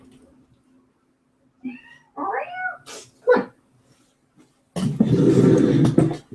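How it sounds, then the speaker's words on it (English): A pet cat lets out several short, rising meows indoors, close and clear. Each meow is separated by a quiet gap. A voice speaks one brief word, and then a loud, noisy rustle follows. "stop meowing"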